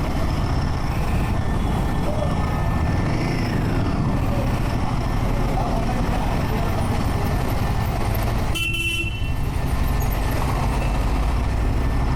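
Heavy road traffic near Hyderabad rumbles continuously, with engines and road noise close by and a short horn toot near the end.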